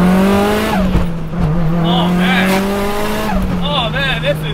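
A Mitsubishi Evo, built for speed and running low boost, pulls hard under acceleration, its engine note climbing steadily through the gears with brief shift breaks. Excited voices talk over the engine throughout.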